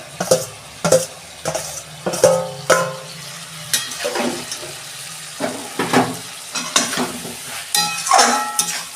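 Shrimp fry in a pan while being stirred. A loud nearby sizzle is broken by repeated scraping and tossing strokes, with no one speaking.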